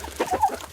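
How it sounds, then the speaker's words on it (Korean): Free-range chickens roaming a mountainside farm, a few soft close clucks in quick succession over faint background noise. "산속에서 방목하며 키우는 닭들"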